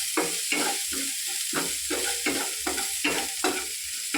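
Dried fish frying in hot oil and stirred, with a steady sizzle broken by regular scraping strokes of the spoon, about two per second, loud and close with no voices.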